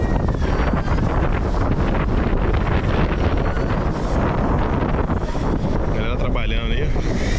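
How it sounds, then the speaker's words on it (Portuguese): Strong wind gusting at the beach at Búzios, roaring steadily across the microphone with heavy buffeting rumble, continuous and loud, while a person talks underneath. "Aqui agora como tá ventando"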